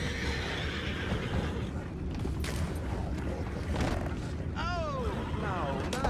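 Horses in Red Dead Redemption 2 whinny twice near the end, with shrill descending neighs over a busy game soundscape of low rumble, clatter and voices talking.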